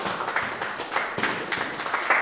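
A church congregation in Paris claps in praise of the Lord, with steady rhythmic clapping from a crowd, moderately loud and continuous throughout.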